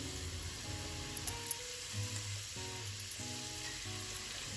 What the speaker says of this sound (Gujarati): હવે આ જે પેસ્ટ છે એને આપણે 1 મિનિટ માટે સાંતળી લઈશું